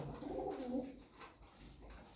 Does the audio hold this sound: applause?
no